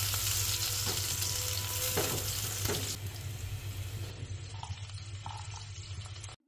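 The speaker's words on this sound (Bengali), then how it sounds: "তেলটা গরম হয়ে আসলেই দিয়ে দিলাম পেঁয়াজ কুচি।" Chopped onion frying in hot oil in a wok for pulao, a dense crackling sizzle with a low steady hum beneath and occasional stirring clatters, the sizzle gradually quieting toward the end.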